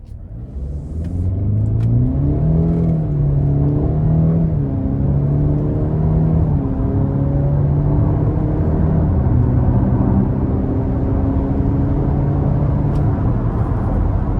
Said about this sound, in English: I'm gonna give it a little push just to test out the acceleration here